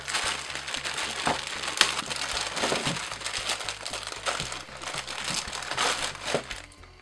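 Plastic packaging of a Broly Super Saiyan anime figure from the Ichibansho Rising Fighters line is handled and opened, with continuous close crinkling and crushing and a few sharper snaps.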